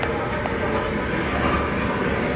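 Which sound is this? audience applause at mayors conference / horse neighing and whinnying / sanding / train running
train running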